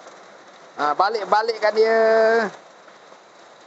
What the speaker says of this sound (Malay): Hujan dah terlampau lebat.